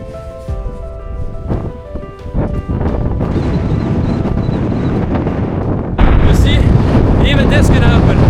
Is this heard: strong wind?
yes